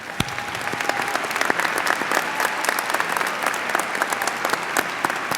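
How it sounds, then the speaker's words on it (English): Warm applause from an audience at an Arizona State University convocation ceremony, steady clapping throughout with no speech over it. "Please join me in a round of applause to thank Paul and Edward"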